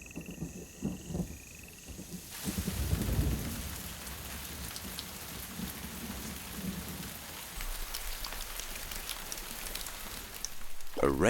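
Raindrops falling on a gorse bush sheltering tiny mites, heard as a steady, dense patter of rain with distant thunder rumbling underneath, continuous throughout with a louder burst of drops near the end.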